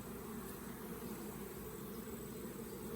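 A soft, steady buzzing of many honey bees close by, continuous and low, with no talking.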